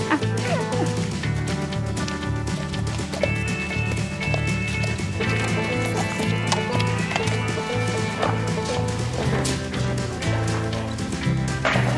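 Walking horse in a park on a beginner ride, hooves clip-clopping in a steady rhythm throughout, with a dog barking and yipping intermittently amid continuous background sound.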